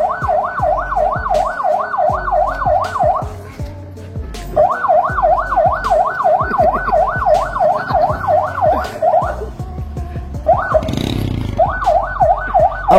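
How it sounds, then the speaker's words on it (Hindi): A police car siren in Karachi, wailing in steady rising-and-falling cycles with a brief break midway, loud and close over a low vehicle engine rumble. "पुलिस की गाड़ी का रास्ता रोककर उसके सायरन पर अपना डांस दिखाना शुरू हो गए।"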